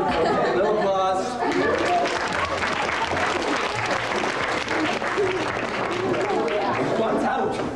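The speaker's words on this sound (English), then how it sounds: "Little applause." A small audience claps warmly for several seconds, mixed with chatter and a voice speaking over the applause.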